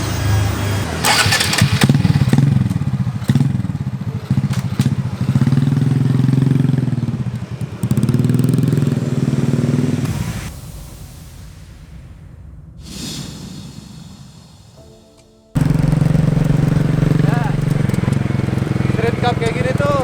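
A Street Cub Supra X 125 motorcycle starts and idles with a near, loud putter, then cuts out and fires up again to a steady run, with someone talking over parts of it.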